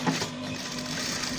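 A sewing machine runs steadily while stitching the collar of a school uniform, a quiet continuous mechanical whir and clatter with no pauses across a brief moment.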